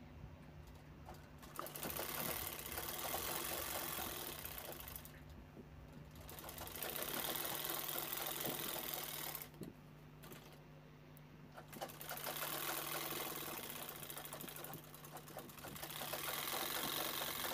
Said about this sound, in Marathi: सेंटरमध्ये अशी व्यवस्थित बसवून दोन्ही साईडला आपल्याला शिलाई घ्यायची आहे